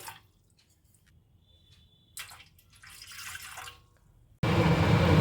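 Water measured from a glass is poured into a pot on the stove. A few faint drips and splashes come first, then a loud, steady close pour at the end.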